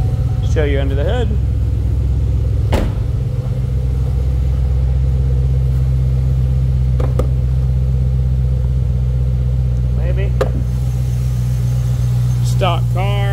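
A stock 2010 Chevrolet Camaro 2SS with a factory 6.2-liter V8 and six-speed manual rumbles steadily at idle, loud and close, with a few brief blips of revving and short bursts of talk over it.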